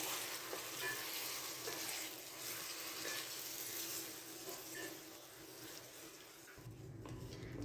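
Chicken fries with whole cloves and black peppercorns for matar gosht, a steady close sizzle with occasional stirring that briefly dips near the end.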